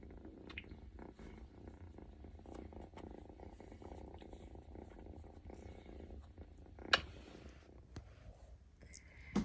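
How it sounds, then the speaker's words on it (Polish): A domestic cat purrs softly and continuously up close, a low rhythmic rumble running throughout with a few faint rustles and one sharp brief click. "Cały czas tylko mruczy i się chce tulić i się chce ocierać."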